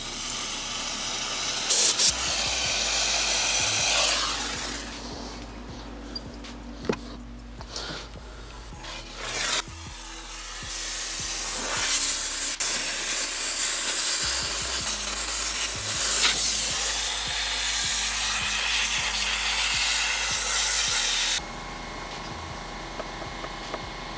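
A steam cleaner works over a car interior during detailing, giving a continuous rough hiss with rubbing and scrubbing that starts and stops, loud and close up throughout.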